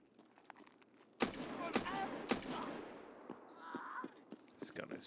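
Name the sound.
loud gunfire from the player's gun in the video game Escape from Tarkov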